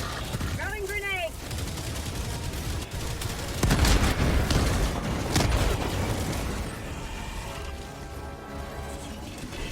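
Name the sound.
grenade thrown and exploding in video game Helldivers 2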